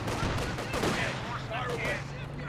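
Artillery barrage in a strategy video game, a rapid, continuous rumble of overlapping gunfire-like bursts with a steady low drone underneath, moderately quiet and lasting a couple of seconds.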